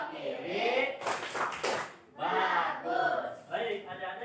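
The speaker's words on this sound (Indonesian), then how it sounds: "tepuk tangan untuk kita semua" A class claps together in a short burst of group applause during a lesson, with a teacher's voice speaking before and after the clapping.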